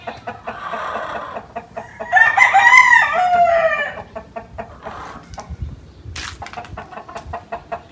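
Chickens on a farm that also keeps pigs and goats: a rooster crows loudly and close, surrounded by steady clucking from the flock.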